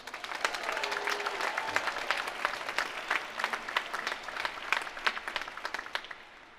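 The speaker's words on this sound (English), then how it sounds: "they deserve a round of applause" Crowd at a university graduation ceremony applauding steadily, dense clapping sustained throughout, swelling slightly then continuing evenly.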